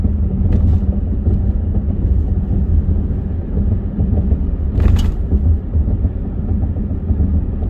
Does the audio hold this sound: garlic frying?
no